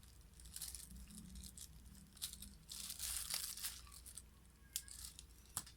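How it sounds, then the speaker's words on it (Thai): Thin double-sided adhesive tape is handled and pressed in place during a Lenovo IdeaPad S540-14API laptop screen replacement, giving faint, close crinkling and light peeling sounds in small irregular bursts. "ผมก็จะใช้เทปกาวสองหน้าบาง ๆ แปะเอาไว้นะครับ"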